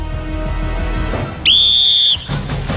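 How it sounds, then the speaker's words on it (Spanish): A single loud, sharp referee whistle blast lasting under a second, cutting through low crowd murmur, restarting a race on the Exatlón EEUU competition show. "todo se inicia con el silbato"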